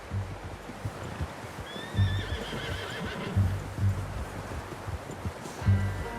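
A horse whinnies clearly in the middle while hooves thud in a slow, repeating rhythm over outdoor ambience in the video game Red Dead Redemption 2.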